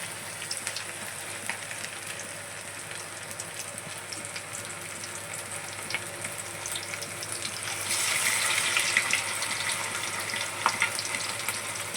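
Chicken vada batter frying in hot oil, a continuous crackling sizzle that grows louder and busier partway through, with scattered sharp pops.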